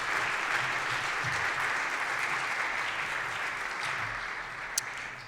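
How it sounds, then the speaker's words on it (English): A lecture audience at Harvard breaks into sustained applause that fills the room evenly and fades a little toward the end, with no speech over it. "One last round of applause for Farah Jasmine Griffin."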